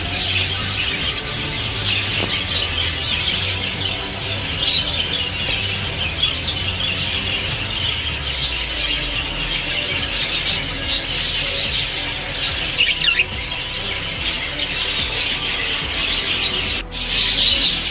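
Birds chirp and tweet steadily inside an aviary, a dense chorus of many small calls at moderate distance continuing throughout, with occasional soft rustling and no talk.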